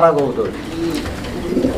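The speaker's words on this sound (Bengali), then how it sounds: "এগুলো হচ্ছে আপনার উড়ি কবুতর" Flying pigeons coo softly at close range in a short burst, with a voice audible over the low murmuring calls.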